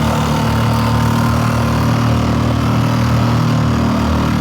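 The outboard motor of a Pelican Catch PWR100 boat running at full throttle, a loud, steady, buzzing drone heard close and continuous with no talking.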